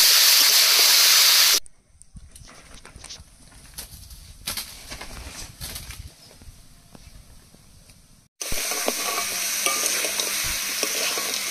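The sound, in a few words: frying and stirring duck meat for curry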